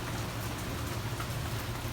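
Rain falls steadily in Key West, a dense continuous hiss and patter on surfaces with a low rumbling undertone, unbroken and without voices.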